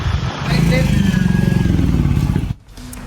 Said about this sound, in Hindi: खुद बाइक चला रहे